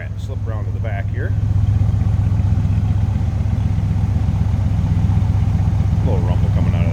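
A 1977 Chrysler Cordoba's 400 V8 idles with a steady low rumble close by, a constant throbbing drone that runs the whole time with a voice talking over it.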